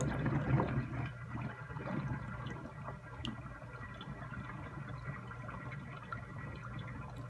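Hot water, about 120 degrees, draining steadily from a freshly unclogged bathtub, a continuous soft gurgling wash with faint drips, close by and alone.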